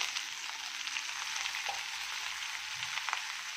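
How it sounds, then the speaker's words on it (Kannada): Ridge gourd, chillies, onion and peas fry in a pan, giving a steady close sizzle with faint stirring scrapes and no voices. "ಇದು ಫ್ರೈ ಆಗ್ತಾ ಇರಲಿ"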